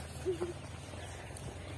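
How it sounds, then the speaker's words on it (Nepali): A bird gives a couple of soft, short hooting calls close together, quiet against a low background hum outdoors near a pond. "हेर्नु यो चाहिँ चरा"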